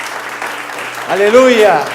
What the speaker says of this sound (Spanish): Démosle un aplauso al que vive,